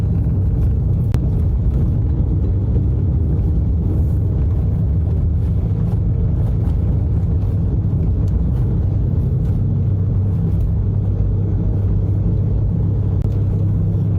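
Steady, loud engine and road rumble from a car cruising through light traffic in Malmont, Grenada, continuous and unbroken throughout, with no voices.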